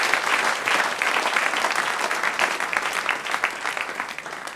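Sunday service congregation applauding in church, a full sustained round of many hands clapping heard on its own throughout, fairly close and steady before tapering slightly.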